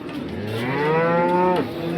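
A cow at a cattle market in Sangola, Maharashtra lets out one long, drawn-out moo, close and loud, rising then falling away, with no one talking.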